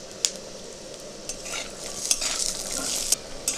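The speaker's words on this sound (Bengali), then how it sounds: "তেল গরম হয়ে গেছে, চিনাবাদামগুলো ভেজে নেব একটু লাল লাল করে।" Peanuts fried in a little hot oil in a wok while being stirred make a soft sizzle, broken by a few sharp metal scrapes and clicks of the spatula against the pan.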